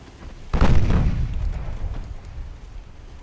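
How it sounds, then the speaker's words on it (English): A 5-inch naval gun fires in the Ultimate Admiral: Dreadnoughts naval warfare game, one sharp heavy boom followed by a long rumbling decay, loud and alone. "only the 5-inch guns are still opening fire"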